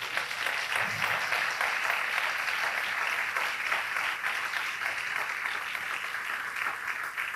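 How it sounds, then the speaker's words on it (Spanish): A church congregation gives a long, steady round of applause for the Lord, dense and evenly loud for over seven seconds, with a brief low voice or shout near the start. "yo le daría un aplauso al Señor allí"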